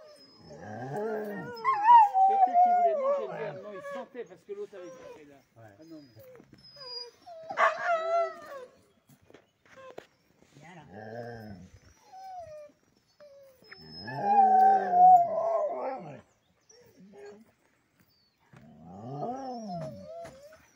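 Several sled dogs in a team of ten to fourteen let out wavering howls and whines in bursts, with quieter gaps between the choruses, close by and fairly loud.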